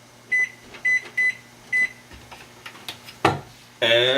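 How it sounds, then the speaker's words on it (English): An oven timer beeps four times in an even rhythm in a home kitchen during baking, followed by some light handling clatter and a louder tone at the end. "And we'll set our timer for 7 minutes."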